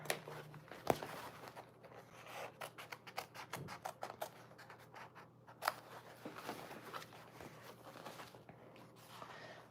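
Scissors cut out sewing fabric in a series of quiet snips and rustles, irregular clicks up close against a low background hum.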